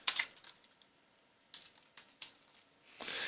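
Computer keyboard in a quiet room, keys tapped in short bursts with gaps between, the clicks sharp, light and close, ending in a quick run of rapid strokes; no voices.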